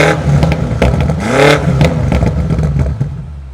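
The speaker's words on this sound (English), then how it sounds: "take a listen to a quick exhaust clip with the sound control on in its loudest setting" A 2023 BMW M8 Competition revs sharply with its exhaust sound control at the loudest setting, the exhaust rising and falling in a quick burst of throaty roars, close by.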